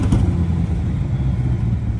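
Chevrolet C8 Corvette idling in tour mode with its exhaust tips removed, a steady low rumble held close and loud for a couple of seconds.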